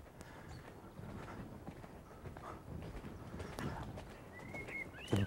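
Hooves of a show-jumping horse clip-clop steadily over ground, a continuous rhythm of moderate, fairly close beats, with a faint bird chirp near the end and no speech.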